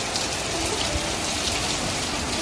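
Steady, dense rain falls after a hailstorm in Loei, Thailand, a continuous even hiss of drops on surfaces with no voices.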